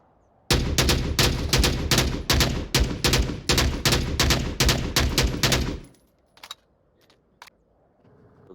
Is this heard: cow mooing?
no